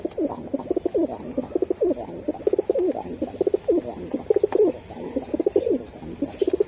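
Budapest pigeons coo in repeated soft, throaty phrases close by, a continuous rolling murmur of overlapping calls from several birds.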